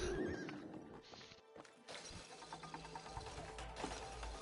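Horse neighing and hooves clip-clopping in the video game It Takes Two, a whinny up front followed by a brief clatter and continued hoof and game sounds, moderately loud.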